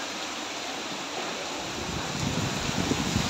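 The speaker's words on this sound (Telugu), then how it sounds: "ఇలాంటి గాలులు, ఇలాంటి వానలు వచ్చేటప్పుడు జాగ్రత్తగా ఉండాలి." A strong wind and heavy rain storm brings a continuous, dense roar of gusting wind and pouring rain. The roar swells slightly louder toward the end, with no voices.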